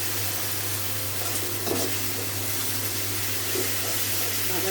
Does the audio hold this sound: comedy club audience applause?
no